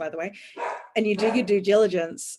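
Dogs bark and yip in a home in the background while a person keeps talking steadily over them.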